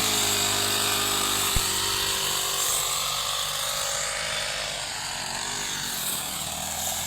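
Grass cutter slicing through grass, a loud high-pitched engine whine close by. A brief knock comes early on, and the pitch dips slightly as the blades bite into the grass.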